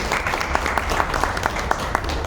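A crowd claps steadily for a couple of seconds, a dense patter of many hands without a break.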